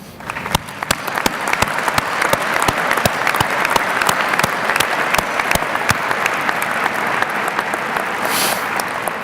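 A graduation commencement crowd applauds international students, sustained dense clapping that stays loud and even from start to finish, filling a large hall.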